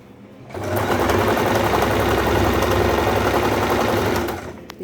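A sewing machine stitches a petticoat, running at a steady, fast whir for about four seconds after a quiet start, then slowing to a stop. The sound is close and loud.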